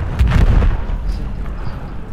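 A heavy, booming cannon shot hits at the start, followed by a rumbling decay and distant muffled thuds.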